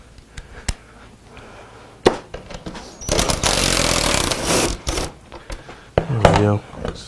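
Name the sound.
drill with 10mm socket unscrewing F150 seat pan bolts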